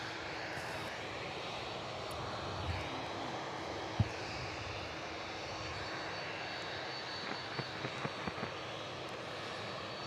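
Turkish Airlines aircraft at Miami Airport, a faint, distant, steady engine hum with a few small clicks and thumps.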